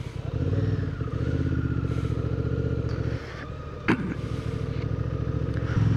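A motorcycle pulls away near a KMC Moto shop, its engine droning steadily with shifting pitch, then a brief clatter and a quick surge as it rides off.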